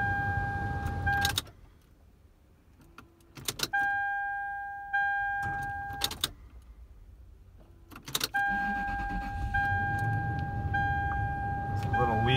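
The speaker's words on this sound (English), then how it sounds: "I think what's happening is that starter's starting to go. You can hear it kind of click" A high-mileage Toyota Sequoia with a worn starter clicks and cranks weakly in repeated start attempts, with tonal chimes and short bursts of mechanical noise separated by quiet gaps, and the engine rumbling near the end.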